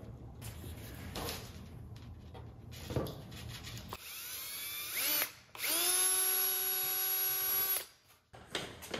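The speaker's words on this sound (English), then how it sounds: "So we'll do a pilot hole." A power drill whirs and bites into wood boring a pilot hole, with rubbing and grinding, then the motor spins up to a steady high whine before stopping.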